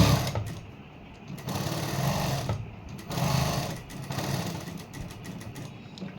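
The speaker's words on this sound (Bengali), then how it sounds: "সামনের গলাটা এইভাবে আবার" A sewing machine stitches a blouse neckline in several close, steady whirring runs that rise and fall in loudness with brief slowdowns between.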